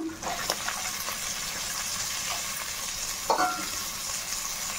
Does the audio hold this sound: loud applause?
no